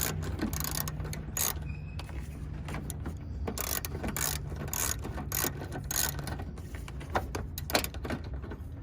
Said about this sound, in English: Screw is not completely loose, so we're going to go back and finish loosening our screw here.